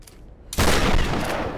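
A gunshot fired in the Tomb Raider game erupts suddenly after a near-silent moment, a loud, harsh, distorted blast whose clipped roar lingers for about a second.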